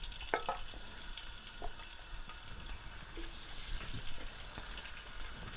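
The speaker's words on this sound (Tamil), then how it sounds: "இறாலை பொரிப்போம்." Prawns fry in oil with a faint, steady sizzle and crackle, broken by a few soft clicks and a little watery splatter. No voices.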